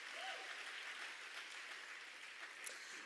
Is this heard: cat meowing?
no